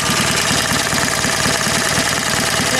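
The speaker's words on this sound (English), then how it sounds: "So here's the bike running with the valve." A BSA A10 motorcycle engine fitted with Bunn breather valves running steadily at idle, loud and close, with a regular low pulsing beat and a faint ticking on top.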